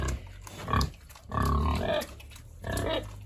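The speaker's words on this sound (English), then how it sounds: "this little pig was ready to have some eggs" A pig on a small farm grunting and snorting in several low, rough bursts while eating eggs, close to the listener with no talking.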